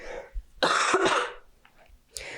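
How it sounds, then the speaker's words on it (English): A person clears their throat roughly and coughs a couple of times, close up, with short pauses between the bursts. "I will be coughing"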